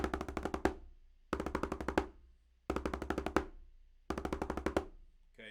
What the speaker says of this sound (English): A 9-stroke roll is going to sound like this.